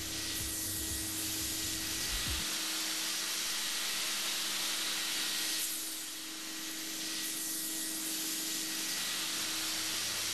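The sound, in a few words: steam generator cleaning a hospital operating table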